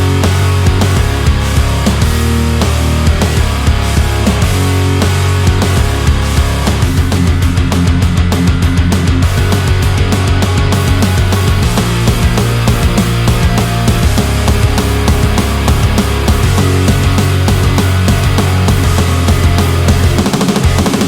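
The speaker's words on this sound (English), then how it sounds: "Let's talk about getting a modern pop punk drum sound like this." Punchy modern pop punk drums play continuously at full loudness, with a driving kick, snare and cymbal pattern pounding steadily throughout.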